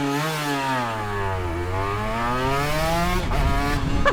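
Two-stroke engines of a Honda NSR250 and a Suzuki RGV250 motorcycle wail up and down close by, a buzzing, whining note that dips, rises steadily, then cuts off into a rough burble before snapping back up.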